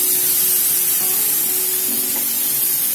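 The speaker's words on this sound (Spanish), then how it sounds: "vamos a incorporarle la nata" Cream poured into a pan of frying cauliflower, producing a loud, dense, steady sizzle and hiss up close that runs unbroken throughout.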